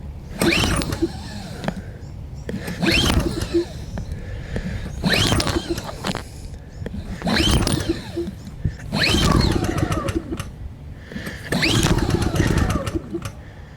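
Recoil starter of a 3000-watt dual fuel inverter generator running on propane, pulled over and over: five loud, rasping pulls about two seconds apart, each a sharp whirring burst, with the engine never catching.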